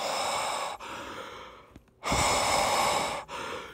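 Someone breathes on stickers to moisten them for peeling, giving long, close, breathy exhales with a short pause and a couple of brief breaks between breaths.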